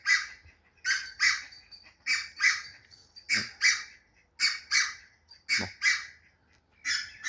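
A pair of wild Canada geese (bernaches) calling repeatedly in loud, honking squawks, paired bursts recurring every second or so, fairly close, with a brief spoken word.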